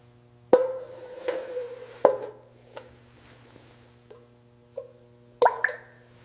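Motor oil from a 1960s Triumph Bonneville T120 engine dripping into a drain pan: several separate close plops and drips at irregular intervals over a faint steady hum.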